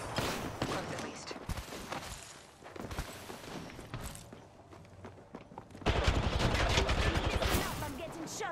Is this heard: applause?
no